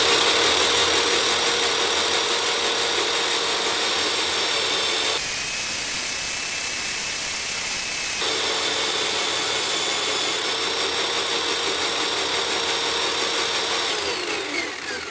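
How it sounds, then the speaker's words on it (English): A small, underpowered bandsaw rated for little more than 1/4 inch plywood cuts acrylic handle pieces, a steady loud whine that drops to a rougher, noisier tone midway as the blade bites, then returns to running, with no talking. "my bandsaw made really quick work of all of the handles"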